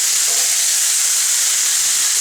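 Spaghetti sauce sizzling in a large frying pan, a loud, steady close hiss of frying throughout with a brief stirring scrape near the end.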